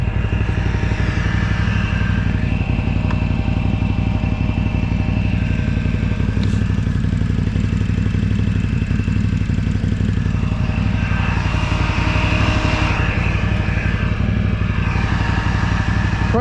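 A Can-Am Outlander ATV engine runs in gear, a loud, steady, rumbling drone that lasts throughout with slight changes in pitch and load, heard up close outdoors.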